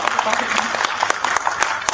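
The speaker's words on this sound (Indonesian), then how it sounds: "Tepuk tangan semuanya yang meriah" Audience clapping at a tourism journalists' forum dialogue; a short burst of brisk, fairly close hand claps with some voices mixed in.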